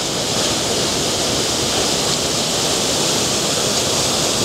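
The Trusetal waterfall roars as a steady, dense rush of falling water, loud and unbroken throughout, with no voices.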